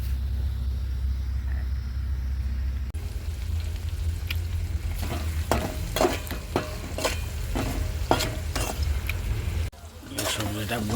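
Meat and vegetables stir-fry in a pan with a steady sizzle broken by repeated scraping and clinking stirs, loud and close, over a constant low hum while a voice talks at times.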